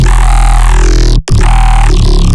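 Synth growl bass with the vocoder switched off, a loud sustained buzzy tone that cuts out briefly near the middle, then resumes with a shifting, filtered character.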